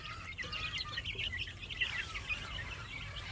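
Pure breed white Kelso chickens and stags give repeated high chirps and calls, a busy cluster of bird sounds close by over low steady background noise, with no talk.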